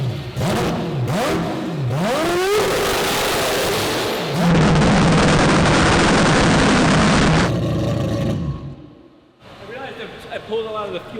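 A turbocharged car engine revs hard at high RPM, holding peak boost around 6,000 and climbing toward 10,000 RPM, with loud rising and falling sweeps and a dense roar in the middle while people talk over it.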